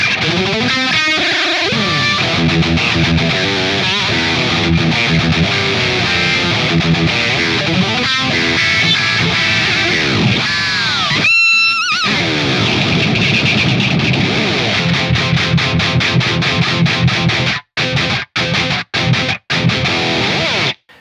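Heavy distorted electric guitar plays chugging palm-muted riffs through the McChug Live plugin preset, thick and loud, with rhythmic stops and stuttering staccato hits toward the end.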